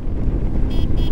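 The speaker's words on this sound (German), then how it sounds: "Was ist das für eine lustige Hupe?" A BMW R1150GS motorcycle horn gives two short, thin, high-pitched beeps in quick succession over a steady rumble of wind and engine noise.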